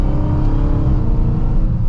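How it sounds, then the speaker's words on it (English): Dodge Charger SRT Hellcat Widebody with its supercharged Hemi V8 under way, a steady loud engine drone with a low rumble and a whining overtone, continuous and close with no talking. "You got that supercharger whine, that rumble from the Hemi."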